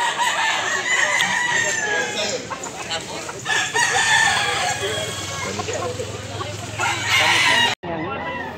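A yellow-legged rooster crows and clucks continuously through a busy, loud farmyard din, with a voice talking faintly now and then before an abrupt cutoff near the end.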